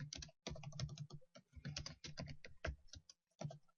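Typing on a computer keyboard, a quick run of close, crisp keystrokes in irregular bursts with short pauses, heard alone without any talking.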